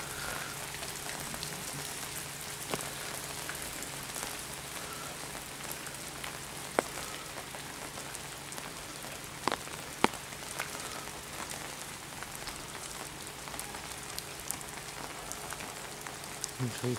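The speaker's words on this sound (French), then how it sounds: "Dommage qu'il ne fasse pas beau aujourd'hui, il pleut" Rain falling at the harbour of Lac du Bourget, a soft, steady patter with occasional sharper drips landing close by, faint and continuous throughout with no talking.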